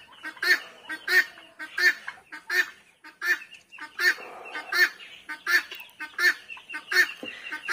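A hen that has recently been laying eggs clucks loudly and close by, a steady run of about a dozen sharp, repeated calls spaced under a second apart.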